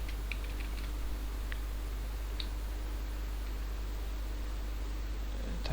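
Someone types PHP code on a computer keyboard, producing sparse, light key clicks in short bursts over a low steady hum, quiet and close.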